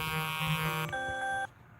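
An electronic alarm buzzes with a harsh tonal drone, then shifts to a cleaner steady tone before cutting off abruptly, loud and close with no talking.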